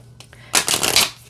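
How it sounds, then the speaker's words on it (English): A small Halloween tarot deck shuffled close up: a couple of light taps, then one dense, crisp riffle lasting about half a second. "It's a little harder to shuffle a smaller deck because you're working with less, but it shuffles just fine."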